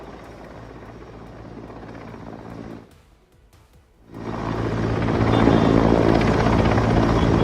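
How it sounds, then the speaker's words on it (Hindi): An Indian Air Force Mi-17 helicopter lands on a hotel rooftop in Delhi during a security drill. Its loud rotor thump and engine roar dip briefly to near quiet, then swell back strong and close. "इस हेलीकॉप्टर को छत पर लैंड कराया जा रहा है।"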